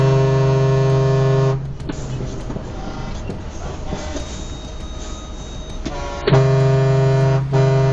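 A loud, deep truck horn blasts steadily for nearly two seconds on a street, gives way to rumbling road noise, then blares again in a second long blast.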